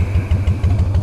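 A motorcycle engine idles high and slightly choked, a brief, loud, close burst of rapid, even throbbing pulses.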